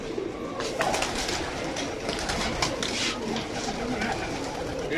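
Soft repeated cooing of several fighter pigeons close by, layered over a rustling background with faint voices and occasional flutter.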